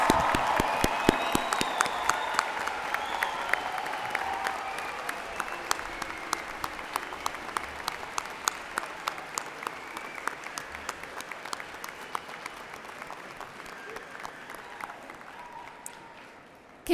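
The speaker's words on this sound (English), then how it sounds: "let's give them another round of applause" Graduation audience at a Red River College Polytechnic spring convocation giving a long round of applause, sharp claps thick at first and gradually thinning and fading over about seventeen seconds in a large hall.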